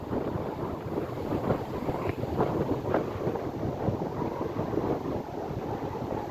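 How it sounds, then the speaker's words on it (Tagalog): Strong gusting wind buffeting the microphone outdoors on a walk to a park, a dense continuous roar with rising and falling surges and no one speaking. "Sobrang hangin guys, parang babagyo."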